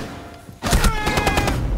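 A burst of rapid gunfire from the Rainbow Six Siege video game, a team deathmatch on the Kanal map. Quiet at first, then a loud, dense volley of close shots starts partway through and runs unbroken to the end.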